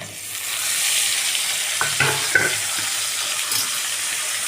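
Onions and tomatoes sautéing with cinnamon for a chicken gravy, a loud, constant sizzle in the pan, broken by a few scrapes and clinks as a spoon stirs.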